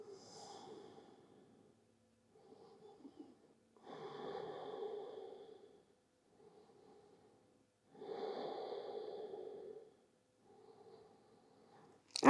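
Slow, deep breathing in child pose during a lower-back yoga session, with three or four soft, airy inhales and exhales spaced a few seconds apart, close and quiet against near silence, and no talking.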